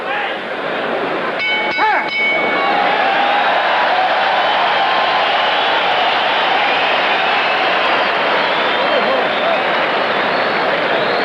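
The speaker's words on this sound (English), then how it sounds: "A strong response from the crowd." Loud, dense crowd noise from a boxing arena audience at a women's pro bout, a continuous roar of cheering and shouting that swells early and holds steady for about eleven seconds, with a couple of brief tonal blasts near the start.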